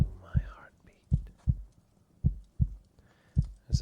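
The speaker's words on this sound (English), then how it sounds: "Rest your head against my chest. And listen to my heartbeat" A human heartbeat heard with the ear pressed against a chest, a series of soft, close, low thumps in a slow, steady rhythm, with faint breathy whispering at the start and near the end.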